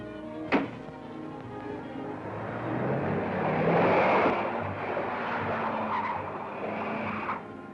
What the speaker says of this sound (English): Car heading south.